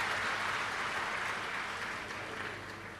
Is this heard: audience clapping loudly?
yes